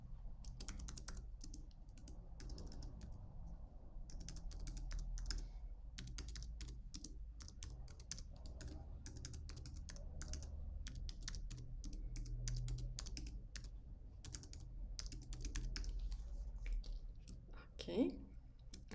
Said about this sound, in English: now let's type your contact info here.